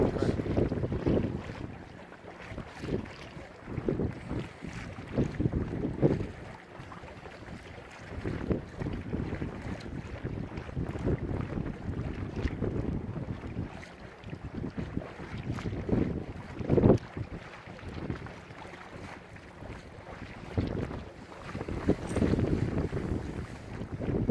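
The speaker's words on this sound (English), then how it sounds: "Motor's still going strong." A boat motor drones steadily on a lake under heavy, gusting wind buffeting the microphone. The wind surges come and go while the engine hum stays low and constant beneath it.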